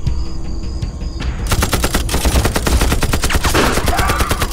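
Rapid machine-gun bursts and rifle shots ring out in a war film battle against a Japanese light machine-gun position, loud and close, starting after a brief quieter moment and continuing in dense repeated cracks.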